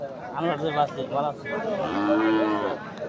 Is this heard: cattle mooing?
yes